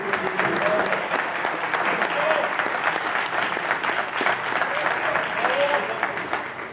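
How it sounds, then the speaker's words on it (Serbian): Loud, sustained applause from a large crowd fills the space, steady clapping with a few scattered voices underneath. "evropskog šampiona Nenada Borovčanina, ako može jedan veliki aplauz za njega."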